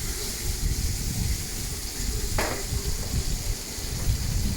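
Tomatoes sautéing in a pan with turmeric and salt, a steady broad hiss and soft sizzle throughout, close and even, with a single sharp scrape or clink midway.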